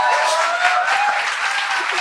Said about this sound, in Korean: 박수 그만 쳐!